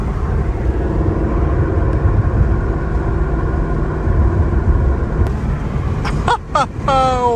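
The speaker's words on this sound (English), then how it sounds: "I could never get over the sound of this car." A 2016 Ford Mustang GT engine drones steadily and close, with a deep, loud, continuous rumble that holds throughout. A brief voice-like sound cuts in over it near the end.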